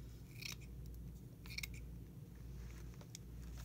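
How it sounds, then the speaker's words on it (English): Scissors cutting a circle out of craft netting, a few soft, close snips in short bursts over a low steady background hum, faint and with no talking. "Let's get a piece of this netting and cut a circle out."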